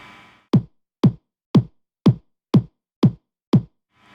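A synthesized body kick drum sample from Metrum, low-pass filtered, thumps seven times in a steady, evenly spaced pulse about half a second apart, loud, deep and alone.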